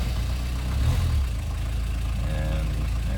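A cold diesel car engine, started after glow plug heating, runs with a steady low rumble and knocking idle, fairly loud and continuous throughout.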